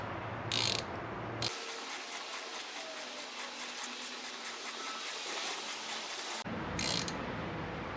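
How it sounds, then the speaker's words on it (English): Rapid ratchet clicks, a fast steady series of light metallic ticks, come from a tool screwing an extractor into a stripped brake bleeder screw on a Harley-Davidson Softail. Brief mechanical handling noises come before and after, and no one speaks. "you just want to screw this in until it bottoms out"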